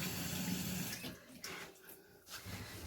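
A face cloth is rinsed under a running bathroom tap, giving a steady close gush of water with brief changes as the cloth moves through the stream.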